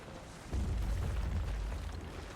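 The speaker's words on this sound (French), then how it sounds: "La charge est prête, attention à l'explosion." Explosion in the video game Guild Wars 2: a sudden low boom that rolls on as a rumbling, fairly quiet blast for about two seconds, with no talking over it.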